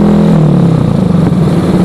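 Motorcycle being ridden on the road, a loud, close engine drone with a throbbing rhythm that shifts slightly in pitch as the throttle changes.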